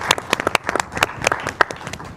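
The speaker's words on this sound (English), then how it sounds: "another round of applause" An audience applauds at a community conversation on teaching Black theatre, a dense run of sharp individual claps that continues steadily throughout and fairly close.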